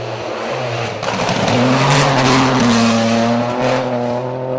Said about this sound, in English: Two cars coming anyway.